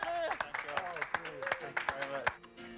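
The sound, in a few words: applause from the gallery at shooting prize-giving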